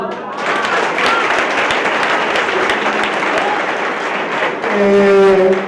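Audience applause fills a school academic awards ceremony for maths literacy and life science, a dense sustained clapping throughout that swells louder near the end, with some voices mixed in.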